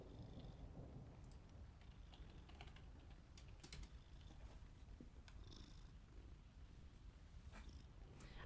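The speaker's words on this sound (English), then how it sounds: "Listen to that big old purr. Listen to that kitty." A cat purrs close by in a low, continuous rumble, with scattered computer keyboard clicks and taps over it.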